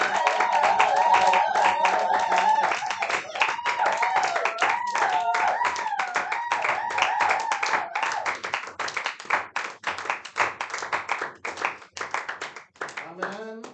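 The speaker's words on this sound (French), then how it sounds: "acclame très très fort pour ton Dieu" A church congregation claps loudly for God at a Sunday service, with dense rapid applause filling the room and voices cheering and acclaiming over it, the clapping thinning out toward the end.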